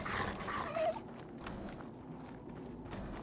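Mongrel dog in the Fallout 4 video game, a brief low whimper and growl up front amid rustling game noise, followed by quieter footsteps and ambience, no speech.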